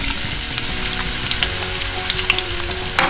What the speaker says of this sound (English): Now we're gonna add our onions.